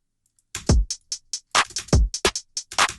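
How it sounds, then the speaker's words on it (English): A programmed FL Studio snare drum enters an electronic beat as sharp, bright cracks alongside booming kick hits and quick ticks, after a brief silent start, with no voices present. "This is snare."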